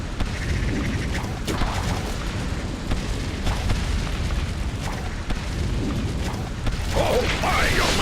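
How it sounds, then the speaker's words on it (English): Explosions and battle rumble from the fantasy strategy video game Defenders of Ardania, a dense, loud, continuous roar of booms and mechanical clatter with crackling debris bursts near the end. "What a splendid explosion!"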